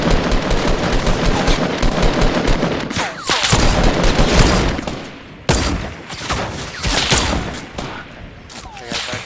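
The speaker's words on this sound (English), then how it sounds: "I'm gonna shoot at it." Rapid gunfire in Fortnite comes in loud, close bursts of automatic shots, with brief pauses between volleys.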